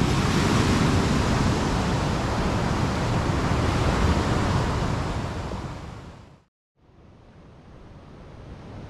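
Ocean surf at Pidakan beach in Pacitan, East Java, roars as a loud, continuous broadband wash of breaking waves and wind, cutting out abruptly for a moment near the end before resuming.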